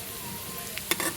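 Potatoes and eggs sizzle in a pan, a steady frying hiss broken near the end by a few sharp spatula scrapes and stirring clatters, with no talk.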